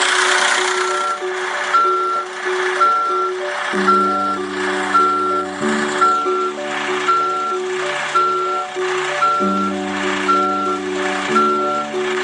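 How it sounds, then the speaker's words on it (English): Cartoon garbage truck backing down a hill toward a landfill, its reversing alarm beeping in a steady repeated rhythm over cheerful music throughout. "Tap the truck to back it down the hill."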